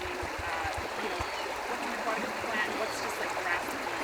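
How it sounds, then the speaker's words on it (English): Creek water at Hewlett Creek streams and trickles steadily, a continuous broadband wash with faint low thumps, heard close and alone. "we are at Hewlett Creek and we're doing a river watch with Jessica."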